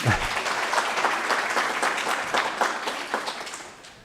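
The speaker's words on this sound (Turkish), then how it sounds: "Vallahi kocaman bir alkış daha." A big round of audience applause from a Turkish TV quiz show studio crowd, dense and steady for about four seconds before tapering off at the end.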